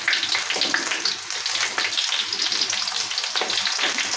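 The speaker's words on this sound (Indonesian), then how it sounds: "Sambil kita aduk-aduk bawang gorengnya" Sliced shallots frying in hot oil in a pan, a steady close sizzle and crackle with occasional stirring scrapes, no talking.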